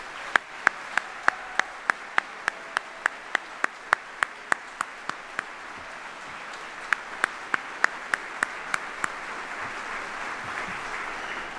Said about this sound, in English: please join me in a round of applause for all the families here today